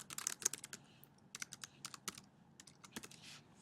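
Quick bursts of clicky keystrokes on a computer keyboard, close and fairly quiet, in irregular clusters across a few seconds with short pauses between.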